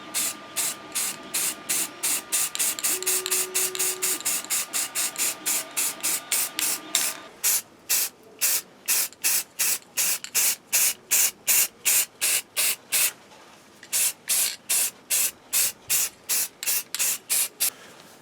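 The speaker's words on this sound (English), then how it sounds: "I'm using a standard rattle can Rust-Oleum flat white." A Rust-Oleum flat white rattle can sprays in rapid short bursts, a close, loud, rhythmic series of hissing pulses, with a slower run of bursts following a brief pause.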